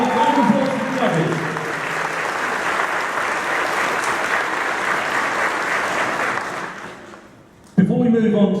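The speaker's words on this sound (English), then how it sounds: "Let's have a round of applause for the judges." A crowd at the AmeCon 2018 anime convention closing ceremony gives loud, sustained applause for the cosplay competition judges. A voice is heard at the start, and the clapping fades into a brief pause before speech resumes.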